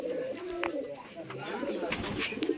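Pigeons in a loft, males and females together, coo softly in low repeated calls against a busy background of other birds, with a faint whistle-like tone drifting above at a moderate distance.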